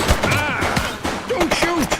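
Gunfire in the cop video game The Precinct crackles in quick bursts among loud game sound effects and siren-like tones, with voices shouting over the shots.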